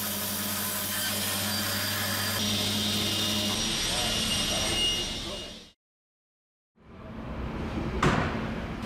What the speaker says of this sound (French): Le bois est positionné en biais sur la scie à ruban